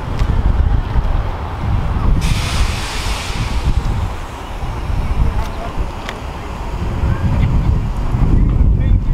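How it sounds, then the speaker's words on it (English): Strong gusting wind buffets the microphone with a deep, roaring rumble that swells and eases throughout, with water and waves faintly beneath. "Starts getting windy and shit all of a sudden."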